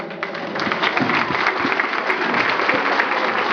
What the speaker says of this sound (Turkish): hayırlı mübarek olsun alkışlar istiyorum ben